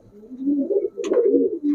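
Rajshahi Giribaz pigeon, a female, cooing nearby in a short series of low rolling coos.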